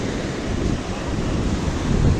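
Heavy surf crashes and roars steadily, a broad rushing wash of ocean waves mixed with gusting wind buffeting the microphone.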